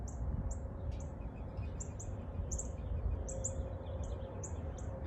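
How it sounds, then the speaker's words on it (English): Small bird chirping in a repeated series of short, high tweets over a steady low rumble of wind or rain during a stormy outdoor yoga session, fairly faint and without talk. "There's a bird."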